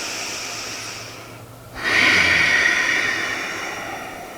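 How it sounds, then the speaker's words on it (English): Ujjayi breathing during chair yoga: a soft, airy breath through the nose tapers off, a brief pause follows, then a louder, rushing hiss of breath swells and slowly fades, close and alone. "That's our Ujjayi breath."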